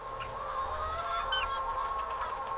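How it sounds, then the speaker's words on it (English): A crowded flock of broiler chickens inside a poultry farm, many birds clucking and chirping at once in a dense, continuous chorus over a low ventilation hum, moderately loud with no one speaking. "The birds are thriving."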